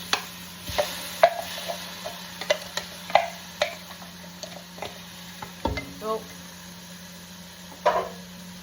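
Scattered clicks, taps and stirring scrapes over a soft steady frying sizzle of onion in a Ninja multicooker pot, close and fairly quiet, with no talking.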